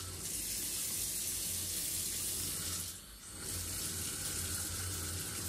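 Hot water runs steadily from a kitchen tap fed by a boiler, a loud continuous rushing stream that dips briefly before resuming.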